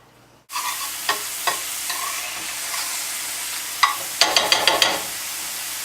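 Chopped ramp bulbs, ramp stems and onion hit a hot pan with a sudden sizzle, then fry steadily, with a few sharp clicks of stirring near the end and no talking.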